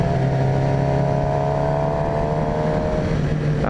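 A 2018 Suzuki GSX-R750 sport bike at speed holds a loud, steady high-revving engine wail with constant wind rush, and the pitch sags slightly near the end, heard up close from the rider's position with no talk.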